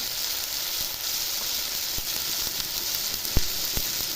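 Ginger-cumin paste, tomato and turmeric sizzling in a pan of spices for a vegetarian potato curry: a steady, bright hiss of frying with a few sharp crackles and pops standing out, close and continuous, no voices.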